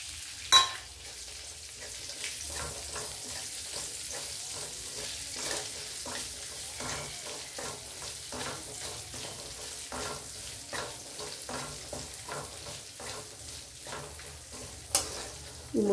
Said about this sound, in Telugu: ఇప్పుడు ఈ ముక్కలు వేగించుకుందామండి.